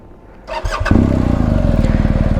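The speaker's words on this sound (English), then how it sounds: "So the whole bike sort of tugs to the left as it starts with the Boxer engine." A BMW R1250 GS boxer engine with an Akrapovic exhaust cranks and catches, then settles into a loud, throbbing idle with a deep, pulsing exhaust note.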